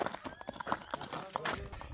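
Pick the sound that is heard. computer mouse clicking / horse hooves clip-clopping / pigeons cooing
horse hooves clip-clopping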